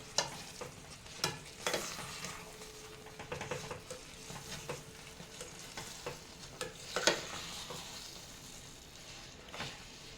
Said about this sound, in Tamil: கைவிடாமல் கலரணும். கைவிடாமல் கலரி பாருங்கள்.